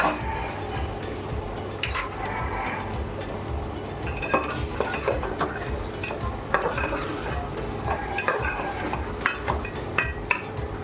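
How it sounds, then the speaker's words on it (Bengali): Raw rice is fried in a pan for vegetarian pulao, heard as a close, busy mix of gentle sizzling with frequent spoon scrapes and metallic clinks against the pan. "চালটা দিয়ে আমি ভেজে নেব"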